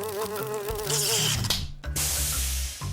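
A housefly buzzing close by on a hot day, a wavering, steady whine that continues under a louder broadband rush of air, as from a nearby fan.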